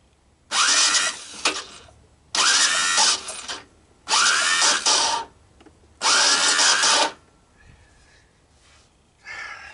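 Four bursts of a buzzing, whirring electric starter on a Honda ATC200M ATV, each lasting about a second, separated by short pauses, loud and close against a quiet background.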